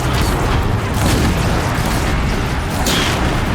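A fire attack erupts against a machine in Horizon Zero Dawn, a continuous loud roaring burst of crackling, booming flame that fills the whole moment with no let-up.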